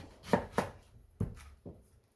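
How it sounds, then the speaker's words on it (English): Four distinct knife chops through a yam on a cutting board, two quick ones followed by two spaced-out cuts, close and fairly crisp. "So I just cut this into two."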